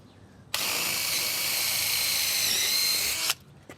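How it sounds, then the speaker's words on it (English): A power drill whines at high speed for about three seconds, boring a 10mm hole steadily through wood, then stops abruptly; close and fairly loud. "I'm going to pre-drill a 10mm hole all the way through our rebated spade hole."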